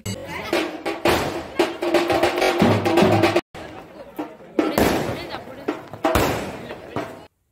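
Fireworks crackle and bang in dense, rapid bursts at a temple palanquin procession in Ratnagiri, loud and close, with a brief pause midway before more volleys erupt.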